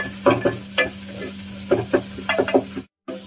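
A single tomato cooking down in a pan for mutton kulambu, with a close, low sizzle and irregular spoon scrapes and clunks from stirring. It cuts to brief silence near the end.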